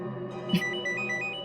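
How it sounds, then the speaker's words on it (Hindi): A phone ringtone chimes softly with a repeating electronic melody, preceded by a brief click, fairly quiet and close. "ये डॉक्टर मानवी ने तो खुद ही फोन कर दिया।"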